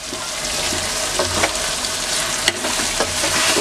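Steady loud sizzle of spices and tomatoes frying in a pot for chicken stew, with fennel and coriander among the spices, a dense continuous hiss with occasional soft stirring clinks, no talking.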